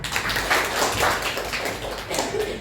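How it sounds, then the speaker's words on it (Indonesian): A classroom group claps together in a steady, dense patter for about two and a half seconds, filling the room with no voices over it. "Tepuk tangan untuk kalian"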